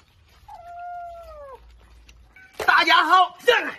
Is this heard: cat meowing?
yes